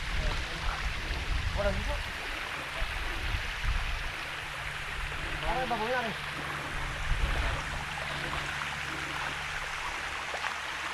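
Water from a mountain stream flows in a steady, broad rushing wash that runs unbroken from start to end, with faint voices briefly audible partway through.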